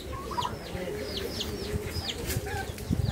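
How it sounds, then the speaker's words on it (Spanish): Chickens and roosters clucking and calling in a farmyard, several birds at once with repeated short calls over a steady background, some wing flapping near the end. "Ahí tiene gallinas, gallos, tiene nuevas crianzas."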